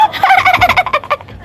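A chicken clucks and squawks in a quick, loud burst of several calls, close by.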